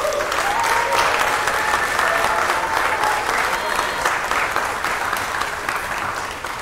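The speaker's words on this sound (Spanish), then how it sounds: "Y para ella le pido un fuerte aplauso." At a formal municipal council ceremony in Panama, an audience gives sustained, steady applause, full and close, with faint voices mixed in and a slight fade near the end.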